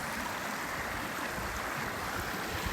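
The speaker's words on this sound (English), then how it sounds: "These streams." Flowing stream water at Munising Falls, Michigan, a steady broadband rush that stays constant and close throughout with no voices.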